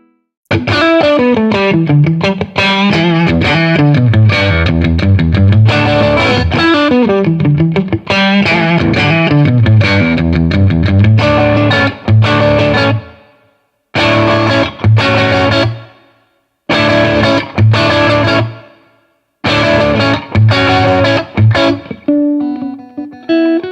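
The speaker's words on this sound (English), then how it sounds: "Crunch is an original amp design called Voltage for those crunchy British tones." Electric guitar played through a solid-state amp on an original British-style crunch model called Voltage, giving a crunchy, moderately driven tone; loud chordal riffs and arpeggios ring out alone, broken near the end by short stabs with brief silences between.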